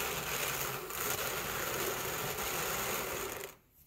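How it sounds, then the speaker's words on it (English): A drum carder with a 90 teeth-per-inch licker-in and a 120 teeth-per-inch drum cards merino and alpaca fiber, giving a steady, close, scratchy mechanical whir that cuts off abruptly just before the end. "So this is my fine carder."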